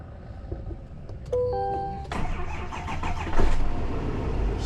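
A new Duramax diesel truck chimes a few electronic tones, then its engine cranks and catches, settling into a close, steady idle that swells slightly toward the end.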